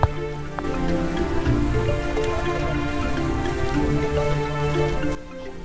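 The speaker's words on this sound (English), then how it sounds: "Though the incessant rain tested our patience" Steady, heavy rain patters continuously on leaves and surfaces in the forest of Kaziranga National Park, India, a dense even wash of drops with no voices.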